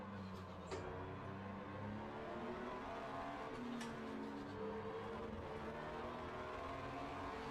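A race car at a driver training session powers out of a hairpin in first gear, its engine droning and rising in pitch as it accelerates, steady and fairly distant with no talk.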